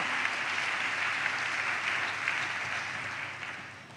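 A church congregation claps steadily, a continuous moderately distant wash of many hands that holds level and then tapers slightly toward the end.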